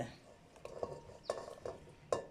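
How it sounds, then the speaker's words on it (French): Ingredients being tipped into a cooking pot, faint clinks and soft knocks of utensils and dishes scattered in a quiet kitchen, several small taps close by with a sharper clank near the end. "Là, je mets tout dans notre marmite."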